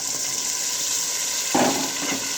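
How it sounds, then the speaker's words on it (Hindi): Beaten yogurt poured into a pan of frying masala with eggs and potatoes; a steady sizzle gives way to a sudden, brighter hiss and bubbling as the yogurt hits the hot oil. "अब इन्हें हम दही के साथ भूनेंगे"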